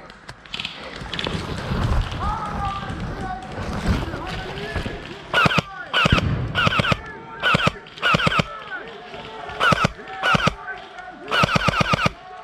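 Airsoft guns fire in short rapid bursts during an airsoft game, sharp clattering volleys repeated several times at close range, with people talking between and under the shots.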